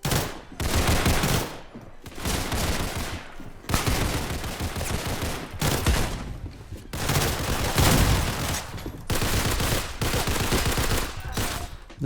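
Rapid bursts of automatic gunfire from Roblox Criminality crackle in repeated volleys, loud and close, separated by brief gaps, with no speech over them.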